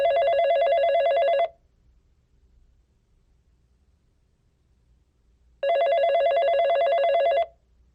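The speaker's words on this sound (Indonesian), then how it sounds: "dia dikagetkan dengan suara telepon rumahnya yang berdering" A home landline telephone rings in two long electronic bursts separated by several seconds of near silence, loud and close.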